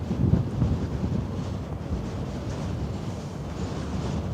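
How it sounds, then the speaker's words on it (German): Strong wind buffets the open deck of the AIDAprima cruise ship in a Norwegian fjord, a constant loud rushing roar with gusty low-end rumble against the microphone and no talking. "Je nachdem, in welche Richtung du fährst, zieht hier richtig heftig der Wind durch."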